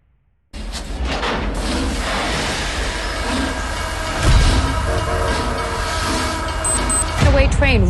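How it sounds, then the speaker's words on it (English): Train rumbling down the tracks in a movie trailer scene, a heavy, loud low-end roar that swells mid-way with rattling and a brief high whistle-like tone near the end, with voices and music over it. "Train rumbles right through small towns en route from Toledo to Columbus."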